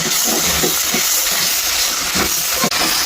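Garam masala, meat masala and Kashmiri chilli with tomato, turmeric and cumin, stirred in hot oil in a pan for a fish roe curry, hiss with a steady, dense sizzle and a few faint scraping stirs.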